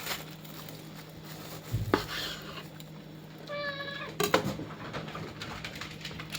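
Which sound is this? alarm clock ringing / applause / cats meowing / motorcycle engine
cats meowing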